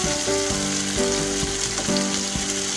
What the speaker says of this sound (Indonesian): Kita tumis bawangnya.